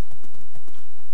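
Horse hooves in Minecraft: a quick run of light, hollow clip-clop steps, close and fairly loud, with no talk over them.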